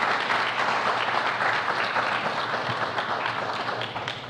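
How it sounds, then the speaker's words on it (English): A crowd at a New Orleans EMS graduation ceremony gives the graduating class a sustained round of applause, dense steady clapping that fills the room throughout and tapers slightly at the end. "let's give them a round of applause"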